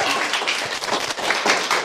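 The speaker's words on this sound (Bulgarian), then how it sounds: "Нека да ръкопляскаме!" An audience claps and cheers at a Bulgarian children's talent show, dense applause close and steady with brief swells, no clear speech over it.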